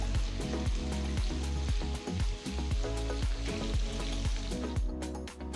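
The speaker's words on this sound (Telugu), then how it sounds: "తర్వాత నేను పొడవుగా తరిగిన 2 ఉల్లిపాయలు వేస్తున్నాను. వీటిని కూడా 2-3 నిమిషాలు వేయించాలి." Sliced onions fry in a pan with a steady, close sizzle and crackle, broken by repeated scraping and stirring strokes over a low hum of background music.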